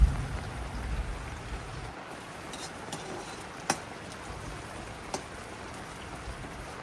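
Heavy rain falling steadily on a high mountain meadow at a shepherd's camp, a soft continuous hiss with occasional sharper drips and ticks standing out.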